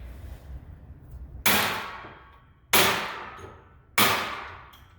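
Three loud, sharp cracks as copper piano strings snap off while dismantling a piano, each like a gunshot followed by a bright ringing clang that slowly fades, close by.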